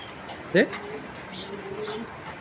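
Racing pigeons at a breeding loft give a soft, brief coo close by, followed by fainter low cooing under a voice speaking.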